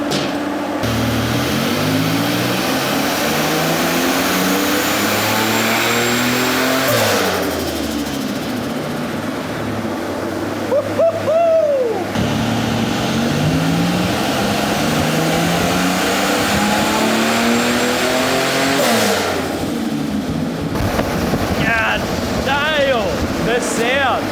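Turbocharged Ecotec engine fitted with a Garrett turbo in a ute drift car, revving hard in repeated rising and falling sweeps with whistling turbo spool and sharp blow-off bursts, loud and close, with people talking briefly.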